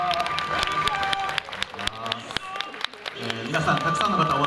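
Crowd applause at a baseball talk show welcoming a Chunichi Dragons alumnus, with scattered claps and an announcer speaking over them.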